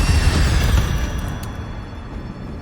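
An Incendio fire spell erupting in Hogwarts Legacy, a loud, close burst of roaring flame with a deep rumbling boom that slowly fades, no talk.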